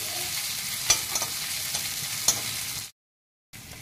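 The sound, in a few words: frying garlic ginger paste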